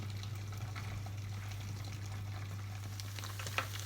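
Gyoza frying in a mix of oil and water in a covered pan, a quiet continuous sizzle with a steady low hum beneath and a few faint crackles.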